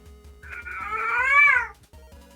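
Hungry cat meowing nearby, a single drawn-out, rising and falling meow lasting over a second, loud and close against a quiet room.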